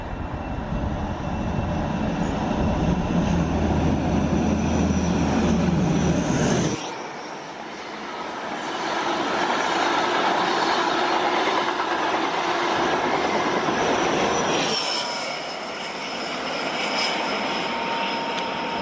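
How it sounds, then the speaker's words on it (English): An HST high speed train rushes past heading north, a loud sustained roar of engine and wheels that swells, dips and swells again as the carriages go by, with no talk. "So here's another HST going north."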